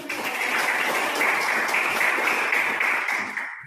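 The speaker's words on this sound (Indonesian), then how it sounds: "Oke, kasih tepuk tangan dulu." A classroom full of people clapping together, a steady dense patter of applause that holds for a few seconds before tapering off at the end.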